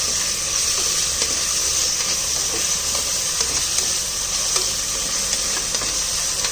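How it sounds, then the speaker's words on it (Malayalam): Onions, green chillies and tomato sautéing in a pot while being stirred, giving a loud, dense, continuous hiss and sizzle with faint scraping throughout, heard close up without speech. "നന്നായിട്ട് ഇളക്കി കൊടുക്കുക."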